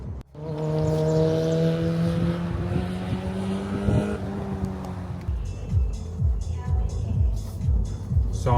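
A car drives along the road into downtown St. John's, Newfoundland, its engine droning steadily from inside the cabin with climbing revs that fall away, then give way to lower rumbling road noise.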